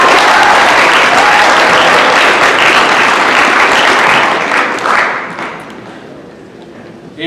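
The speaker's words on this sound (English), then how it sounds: "please stand for a round of applause" Round of applause from a high school audience at a student recognition assembly, loud and dense clapping that holds steady and then dies away near the end, with scattered shuffling and thuds as people stand.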